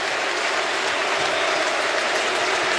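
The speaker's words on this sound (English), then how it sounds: "He is being applauded from the ground" A football stadium crowd applauds an injured player with a concussion during the 2020 AFL preliminary final, Port Adelaide vs Richmond; steady, dense clapping fills the air evenly from start to finish with no voices.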